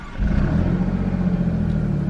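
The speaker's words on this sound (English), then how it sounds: "So let's fire it up. When you start it up, normally, it fires up in normal mode." Alfa Romeo Giulia Quadrifoglio engine firing up in normal mode, a heavy low rumble that swells at startup then settles into a steady, close idle.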